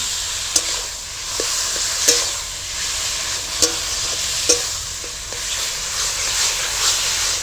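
Brinjal and potatoes fry in hot spiced oil in a pan, giving a steady close sizzle broken by sharp scraping clicks as a spatula stirs them every second or so.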